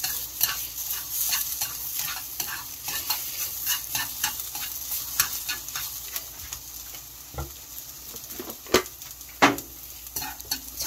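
Oyster mushroom japchae stir-fried in cooking oil, with a steady sizzle and repeated scraping and clacking of a utensil against the pan, plus a few sharper knocks near the end.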